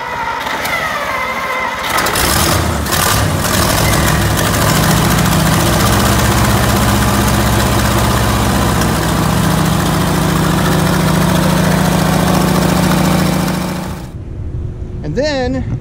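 A revived old car engine with past ignition trouble, heard starting up after about two seconds and then idling with a steady low rumble until it cuts off near the end.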